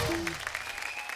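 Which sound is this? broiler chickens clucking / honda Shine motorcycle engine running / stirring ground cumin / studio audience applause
studio audience applause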